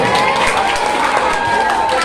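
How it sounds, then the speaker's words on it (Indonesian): Steady crowd applause at a Maulid Nabi religious gathering, dense continuous clapping filling the whole moment at an even, lively level. "Tepuk tangan dulu."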